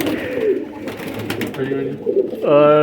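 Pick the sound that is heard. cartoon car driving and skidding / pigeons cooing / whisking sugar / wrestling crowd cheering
pigeons cooing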